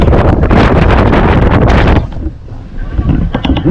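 Loud, roaring wind at sea buffets the microphone on a small tuna-fishing boat for two seconds, then eases to a gusty rumble with faint water and boat noise.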